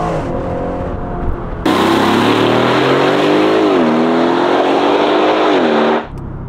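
An Aston Martin Vantage V8 accelerates hard while driving, a loud, close engine roar climbing through the gears with brief dips at each shift before cutting off. There are no voices.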